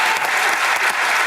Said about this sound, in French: Applaudissons, hein?